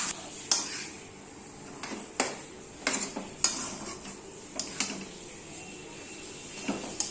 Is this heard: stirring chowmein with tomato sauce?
yes